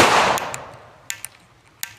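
Homemade methylated-spirit firecracker cannons go off together: a loud broadband blast that decays over about half a second, followed by several sharp metallic clanks and pops spaced irregularly, close by and outdoors without talking.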